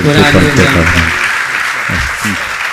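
A gathering at a religious Q&A session with a Jain monk claps loudly, a broad roar of applause running under a voice speaking over it at the start and again briefly later.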